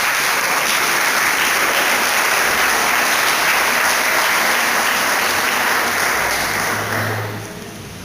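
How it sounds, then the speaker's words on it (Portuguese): Church congregation applauding after a Bible reading, a loud, dense, steady wash of clapping that fills the room and fades toward the end. "aplaudir a palavra do Senhor"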